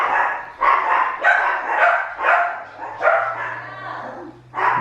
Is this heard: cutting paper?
no